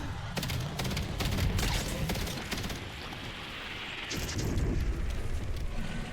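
Boss in a Star Fox game launching a barrage of flying missiles: dense, continuous rumbling blasts and crackling impacts, loud and sustained, with brief gaps and renewed volleys.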